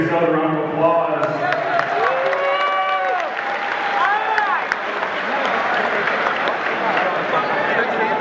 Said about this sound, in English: Go ahead and give yourself a round of applause.